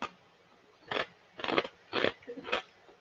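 Four loud, close crunches of someone biting into crisp pork scratchings, each a short, separate burst with quiet gaps between.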